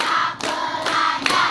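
A class of students claps in unison several times, a few quick, ragged group claps with short gaps between them, close and moderately loud.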